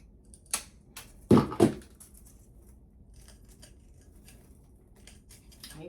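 Scissors snipping material while crafting an Easter bunny wreath, a few quick close cuts with a louder double snip near the middle, then quiet rustling handling.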